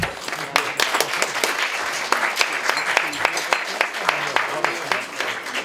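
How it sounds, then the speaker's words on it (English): Audience applause at an Iftar dinner: a steady crowd of many hands clapping densely and fairly close, sustained without a break and with no voices over it. "I want to give a round of applause to the Muslim community."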